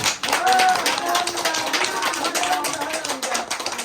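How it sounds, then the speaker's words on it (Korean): An audience of village residents, many of them older women, claps for a visiting performer at a free community show in Gokseong, Korea. The applause is a dense, steady patter lasting a few seconds, with some voices mixed in. "박수 한번 주시면"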